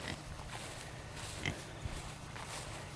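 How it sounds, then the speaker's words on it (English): Pig on a farm, giving a couple of faint, short grunting snorts amid quiet outdoor ambience. "little pig."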